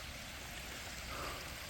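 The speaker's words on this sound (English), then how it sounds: "Check out this beautiful waterfall." Steady broadband rush of a waterfall and stream beside the Pinhoti trail on a winter backpacking trip, a continuous close hiss of falling water with no voices.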